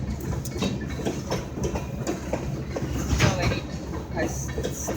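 A train passes at a distance beyond a crossing gate, with a steady broadband rumble and faint wheel clatter, and people talking now and then over it.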